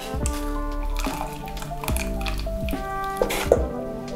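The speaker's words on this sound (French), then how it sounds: "Sans vous brûler, vous enlevez l'excédent d'eau." Excess water dripping and squishing off freshly blanched seaweed as it is lifted out, a run of close, fairly soft irregular drips and wet squelches with no talking.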